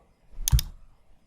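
A computer mouse gives a quick double click, two sharp close taps in a quiet room.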